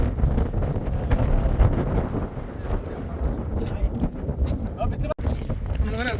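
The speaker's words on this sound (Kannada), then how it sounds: "ಹಂಗಿತ್ತು ಹೆವಿ ಗಾಳಿ" Strong wind buffets the microphone on Mandalpatti peak in Coorg, a loud continuous rushing roar throughout, with voices partly heard beneath it.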